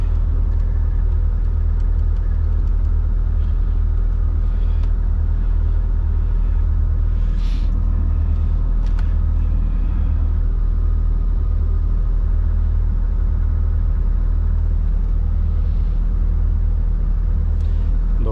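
A 64-ton heavy truck drives over snow in winter Scandinavia, its engine giving a steady, loud low rumble that holds throughout with no break, with a few faint clicks and rattles riding above it.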